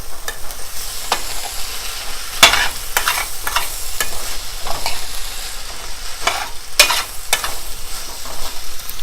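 Potato and cauliflower pieces being stirred in a frying pan for an Indian aloo gobhi dish, with scattered scraping knocks of the spoon against the pan over a soft continuous sizzle, no talking.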